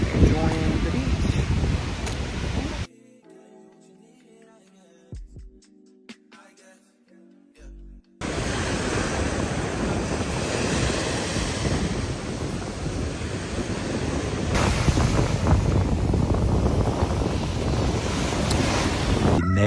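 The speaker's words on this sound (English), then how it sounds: "we're just out here enjoying the beach" Surf rolling onto a beach in Cancun, a steady broadband wash of breaking waves with heavy wind buffeting the microphone, interrupted by a quieter stretch midway before the loud roar returns.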